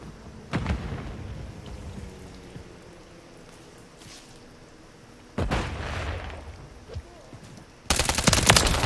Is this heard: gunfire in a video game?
yes